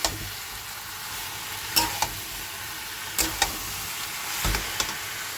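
Soybean curry with yogurt sautéing in a pan, a steady soft sizzle running throughout, broken by a few sharp scrapes and knocks of the stirring spoon against the pan, close and without voices.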